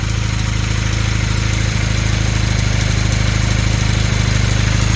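A Honda Hondamatic 400 motorcycle engine idles steadily with a low, even rumble and a faint periodic tick, close and alone with no talk.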